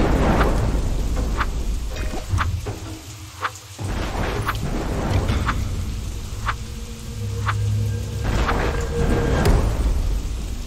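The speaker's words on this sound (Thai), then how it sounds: "แต่ในขณะนั้นฝนก็เริ่มตกลงมา" Steady rain hisses down in a Minecraft game, with low rolling rumbles of thunder and sharp crackling strikes scattered through the downpour.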